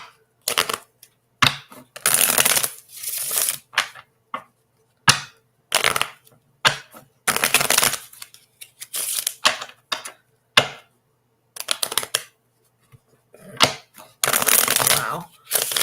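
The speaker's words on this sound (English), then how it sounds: "So my cards don't want to shuffle" Tarot cards are shuffled in repeated bursts of riffling and flapping, with short pauses between each attempt, close and fairly loud.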